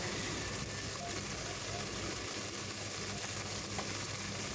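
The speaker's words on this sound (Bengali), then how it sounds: "এখন এগুলো দিয়ে নাড়াচাড়া করে একটু ভেজে নিচ্ছি, মশলার সাথে একটু মিশিয়ে নিচ্ছি" Turmeric, chilli and coriander powder fry while being stirred in a pan, giving a steady, moderately quiet sizzle that hisses continuously with no break.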